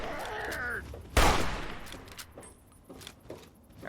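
Gunfire from a weapon in the video game Fallout 3: one sharp, loud blast near the start that decays into a short tail, with quieter clatter afterward.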